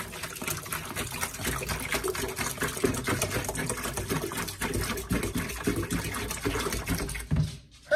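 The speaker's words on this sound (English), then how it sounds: "we should pour some bleach in this bucket" Bleach poured into a bucket for tie-dyeing, a steady close gurgling stream of liquid that runs almost the whole time before stopping abruptly near the end.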